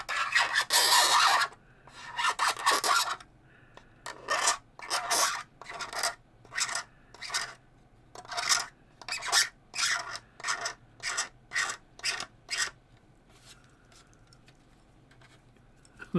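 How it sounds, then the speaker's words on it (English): Rhythmic sanding strokes on the plastic hull of a Type 45 destroyer scale model, a long rasping burst followed by a steady run of short, close scrapes, with faint room tone between them. "We have a lot of sanding to do underneath."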